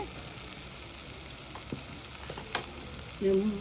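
Chili powder fries in oil for a homemade chicken curry, making a soft, continuous sizzle with small crackles, faint and close, with no one speaking.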